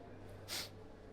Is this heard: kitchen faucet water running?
no